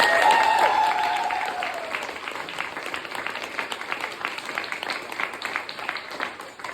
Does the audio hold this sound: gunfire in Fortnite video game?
no